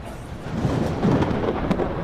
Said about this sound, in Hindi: अब बिजली कड़की तो बारिश होने के चांसेस भी बढ़ गए।